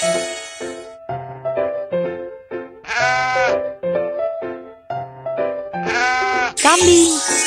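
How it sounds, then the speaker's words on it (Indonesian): A goat bleats in wavering, shaky cries twice over a light looping melody from a BabyBus children's game, with a brief high squeak at the end. "Kambing."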